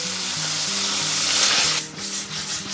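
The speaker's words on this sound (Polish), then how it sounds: "Rozgrzewam patelnię i dodaję tutaj pokrojony boczek." Diced bacon frying in a hot pan gives a dense, loud, hissing sizzle, with a few rhythmic scraping stirs near the end and no talking.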